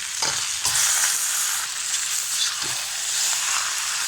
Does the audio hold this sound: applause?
no